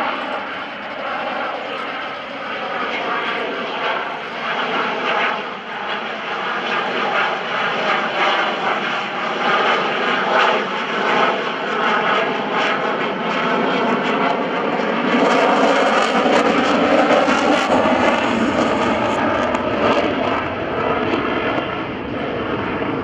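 An F/A-18C Hornet jet flying a demonstration at an airshow, its engine roar loud and sustained, swelling and growing harsher as the aircraft passes, with no talk over it.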